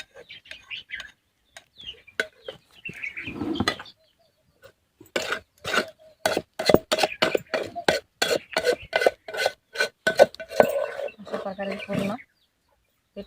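A spoon scrapes cooked rice khichi dough together in a pot with a quick run of rhythmic scraping and clinking strokes, while a voice talks and chickens cluck in the background.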